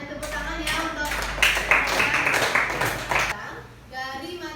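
Elementary classroom students clap together in a brief burst lasting a few seconds, fairly close and moderately loud, with a voice speaking before and after.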